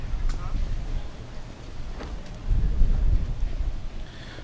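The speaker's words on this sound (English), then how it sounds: "It is very windy." Strong wind gusts buffet the microphone at an outdoor doubles tennis tournament on an island, a steady low rumble that swells louder partway through, with people talking underneath.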